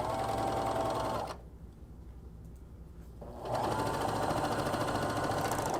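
A sewing machine stitches in steady fast runs, stopping for about two seconds in the middle before whirring back up at full speed.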